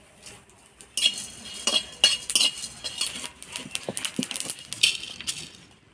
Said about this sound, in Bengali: এবার মাছের ঝোলের জন্য আমি কাঠখোলায় লঙ্কা, তেজপাতা, ধইনা, জিরা ভেজে নিব।